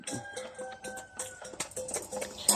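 Rhode Island Red hens cluck and murmur in short, irregular bursts close by, with one sharper squawk at the end.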